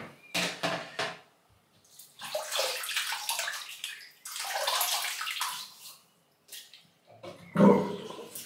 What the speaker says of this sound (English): I'm gonna wet the face.